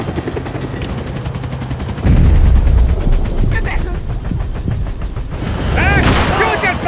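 Rapid automatic gunfire in the video game Max Payne 3 during a chase, a steady stuttering stream of shots mixed with a thudding helicopter drone and booming impacts, loud throughout with shouting voices over it.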